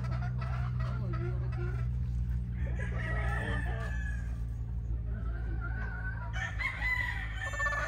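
Newly acquired grey hens and roosters cluck and crow on a farm, with several overlapping crows rising over a steady low hum of background noise and continuous clucking throughout.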